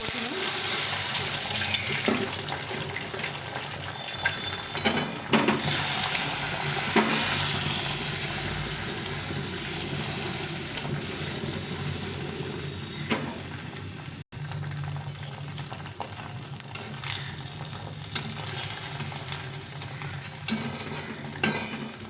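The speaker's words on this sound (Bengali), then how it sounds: "ডিমটাকে অমলেট করে নেবো" An egg omelette frying in a pan with ginger, green chilli and garlic, giving a steady close sizzle with stirring and scraping clatter throughout, and no talk.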